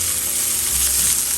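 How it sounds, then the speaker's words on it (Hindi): Nigella and black cumin seeds fry in a hot pan with a steady, loud, close sizzle that holds without pause, and there is no talking. "थोड़ा फ्राई कर लेते हैं।"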